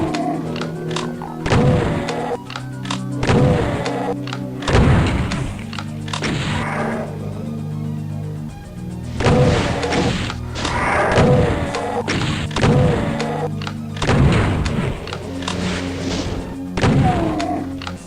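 Repeated heavy shotgun blasts in Doom, a run of loud booming shots in clusters with brief pauses, mixed with game music and other in-game thuds.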